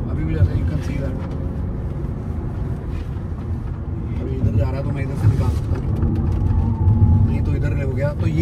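An Audi A4 all-wheel-drive sedan drives along a curving road and changes lanes, its steady low road and engine rumble running under continuous talk from inside the cabin.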